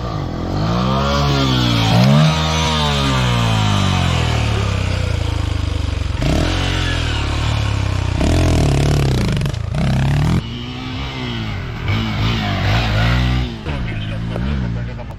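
Motorcycle number 6 making a practice run at a riding academy: its engine revs hard and close, rising and falling in pitch through repeated gear changes and throttle bursts, loud throughout.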